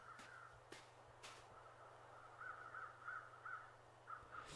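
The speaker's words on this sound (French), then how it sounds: "Là, on entend les corbeaux." Crows caw in short repeated bursts at middle distance in the survival video game The Long Dark, heard over a low steady hum, with a few sharp clicks in between.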